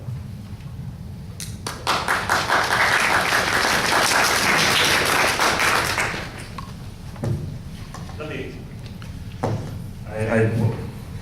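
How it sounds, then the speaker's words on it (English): Audience applause follows a candidate's opening statement at a 2013 League of Women Voters Ward 3 city council forum, a loud burst lasting several seconds that stops abruptly before someone speaks. "let's hold the applause to the end"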